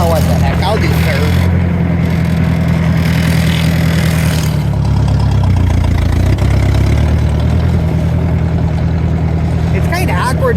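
A Ford 620 tractor fitted with a Sherman forklift runs steadily nearby, a loud, deep engine drone that swells slightly midway, with a voice speaking over the running engine.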